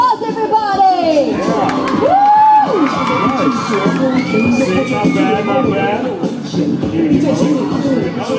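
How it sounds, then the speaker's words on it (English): Crowd at a shopping-mall promotional event at Bugis Junction cheering and whooping with excited shouts and voices, a loud, dense roar of many people throughout. "Round of applause, everybody!"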